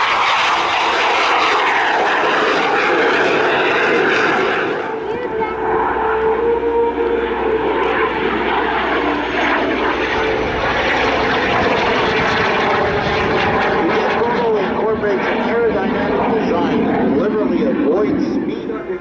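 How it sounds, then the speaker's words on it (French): Jet aircraft at the AeroGatineau 2023 air show, flying with landing gear down, its engine a loud continuous roar that swells and shifts steadily throughout, with a commentator talking over it. "The gear down, he's dirtied up the aircraft."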